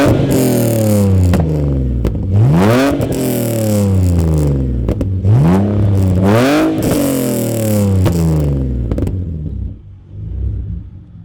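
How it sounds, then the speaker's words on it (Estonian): BMW E46 drift car with an M3 engine revving hard, several rising and falling sweeps with rough, clattery exhaust, loud and close, before settling to an idle at the end. "Pöörde anda, siis teeb häält küll."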